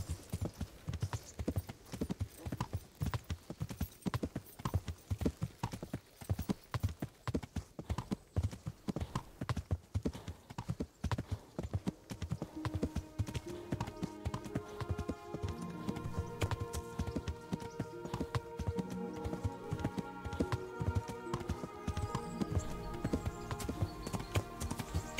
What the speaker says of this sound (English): Nice horse riding on par with Red Dead.